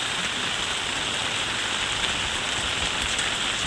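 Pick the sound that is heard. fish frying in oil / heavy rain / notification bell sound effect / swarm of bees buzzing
heavy rain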